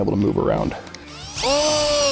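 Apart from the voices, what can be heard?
drill driving screws for kayak rod holder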